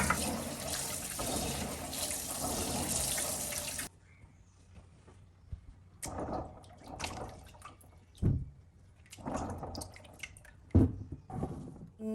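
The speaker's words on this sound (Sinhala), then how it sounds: "මේක දැන් හොඳට සෝදලා ඊට පස්සේ වතුර ටික අස් කරලා වේලෙන්න දානවා." Indian gooseberries being rinsed: about four seconds of continuous running water, then quieter stretches broken by scattered splashes, sloshes and drips as the fruit is handled.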